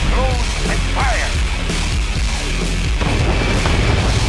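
Ship artillery booming in the Mental Omega strategy game, with heavy, continuous rumbling blasts under dense battle noise and a few short whistling effects near the start.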